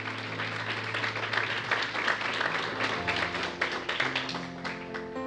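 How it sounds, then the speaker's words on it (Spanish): A congregation at a Spanish-language sermon applauds with soft, steady clapping over sustained organ or keyboard tones, the whole scene faint and somewhat distant. "¿Cuánto le damos un aplauso al Señor?"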